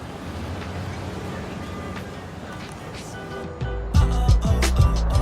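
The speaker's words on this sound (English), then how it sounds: "This is the final train to Harlem today." A subway train on the Harlem line in a Spider-Man game, a steady rumbling ride that swells into loud rhythmic clattering of wheels over rail joints near the end, heard beneath a station announcement voice.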